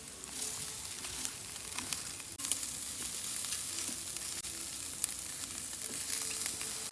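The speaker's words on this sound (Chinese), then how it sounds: "这五花肉啊，都在小火全程慢烤，这油给它慢慢烤出来。" Pork belly, bacon and sausages sizzle steadily over low heat on a secondhand grill on a rooftop, a continuous close crackling hiss with scattered pops throughout.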